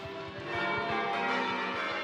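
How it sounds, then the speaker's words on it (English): Church bells sounding in change ringing, overlapping ringing tones with a regular pulse of strikes that swells a little louder midway, sustained and fairly distant with no voices. "The wheel let ringers control the bell's pace and change the order in which they rang."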